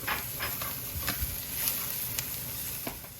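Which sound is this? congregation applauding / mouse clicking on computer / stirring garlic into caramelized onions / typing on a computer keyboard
stirring garlic into caramelized onions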